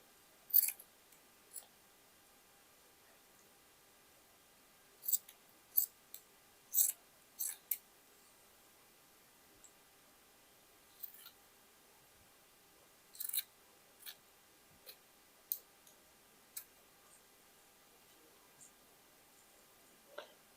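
Scissors snipping through long strips of flowered fabric for a boho shawl, a quiet scatter of crisp, short clicks and snips in irregular clusters with pauses between, close by and faint, no talking.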